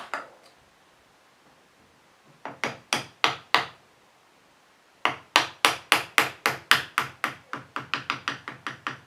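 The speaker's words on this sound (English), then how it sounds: "And again, the small hammer." Sharp, bright small-hammer taps on a metal part of a BMW Bing CV carburettor: a few quick strikes, a pause, then a longer run of steady, rapid taps that gradually soften.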